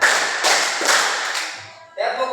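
A class claps hands together in a few loud, evenly spaced group claps that fade toward the end, followed by a teacher's voice speaking.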